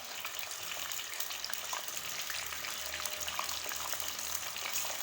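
Chicken frying in hot oil in a karahi, a steady crackling sizzle close by with no talk.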